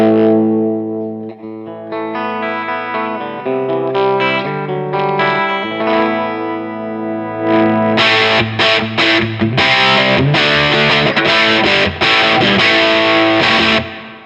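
Electric guitar through a Dumble-style overdrive pedal at a higher gain setting, first sustained chords and single notes, then heavier distorted strummed chords from about eight seconds, loud and close with no talking.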